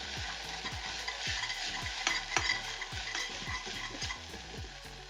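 Spicy Korean veg noodles are tossed and mixed in a hot pan, a dense steady sizzle with quick repeated scrapes and soft clatters of the utensil, fairly quiet and close.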